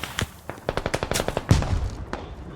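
Rapid bursts of gunfire in the military shooter Squad crack in a quick rhythmic string, ending in a heavier closer shot with a booming tail.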